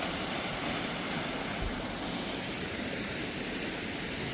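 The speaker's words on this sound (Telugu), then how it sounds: "మామూలుగా లేదు వాటర్ ఫాల్స్" Waterfalls beside a mountain road on the way to Mount Katao in Sikkim, heard as a steady, broad rushing roar of water that fills the whole stretch at a consistent level.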